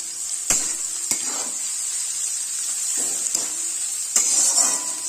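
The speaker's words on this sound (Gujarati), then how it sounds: "પછી અંદર આપણે કેપ્સિકમ નાખી દઈશું અને એને પણ સાતરી લઈશું." Chili, onion and capsicum sizzle in hot oil for veg hakka noodles, a steady bright hiss broken by several sharp clinks and scrapes of a spatula stirring against the pan.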